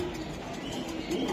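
Racing pigeons, a club-raced pair of young birds, coo softly in a low steady murmur amid faint background noise, with no talk over it.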